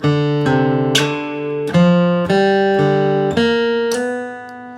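Crisp flatpicked bluegrass acoustic guitar notes in a brisk phrase, with a sliding note near the start, ringing clearly and close with no talking.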